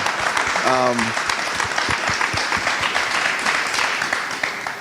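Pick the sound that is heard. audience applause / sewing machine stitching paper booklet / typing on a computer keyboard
audience applause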